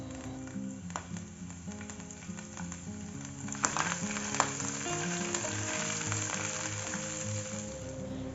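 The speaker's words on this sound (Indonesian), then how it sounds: "Step pertama, kita tumis dulu 2 siung bawang putih yang sudah diparut atau bisa dicincang halus teman-teman." Grated garlic sizzles and fries steadily in a hot pan, a continuous crackling hiss with a few faint spatula taps, close and moderately loud, with no talk.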